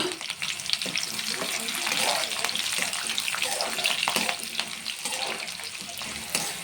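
Chana dal frying in oil with green chillies for mango rice (chitranna): a steady, close sizzling hiss with occasional soft stirring clinks from the pan.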